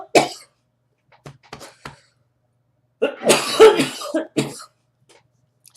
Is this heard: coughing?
yes